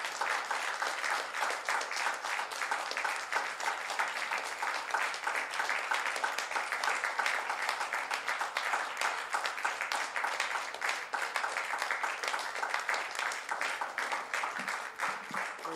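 A church congregation gives a long, even round of hand-clapping praise, a sustained dense wash of claps with no break, slightly distant in the room.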